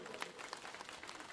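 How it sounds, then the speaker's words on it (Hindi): A political rally crowd clapping, a brief, fairly faint patter of applause heard from a distance without a clear voice over it. "आप लोगों से भी चाहूं कि सबके लिए जोरदार ताली बजा दो एक बार"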